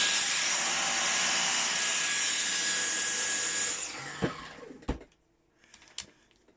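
A Dyson Cyclone V10 stick vacuum cleaner runs steadily on max power with a loud broadband whine, then spins down about four seconds in, followed by a few sharp clicks and knocks as it is handled.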